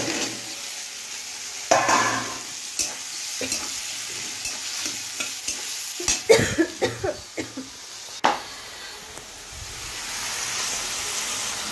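Chopped tomato with raw ginger, salt and turmeric frying in a pan, a constant sizzle broken by repeated scraping stirs that cluster in a quick run near the middle, with a cough heard once.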